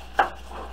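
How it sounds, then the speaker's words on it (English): A single close, crisp chop of a kitchen knife slicing the root end off an onion, one short sharp cut followed by quiet. "Let me show you on this onion. We're gonna cut the bottoms off"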